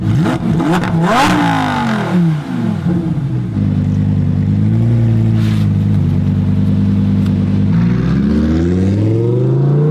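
A Lamborghini Huracan Performante pulls away with loud engine revs rising and falling through several gear changes, close and aggressive, with no talk.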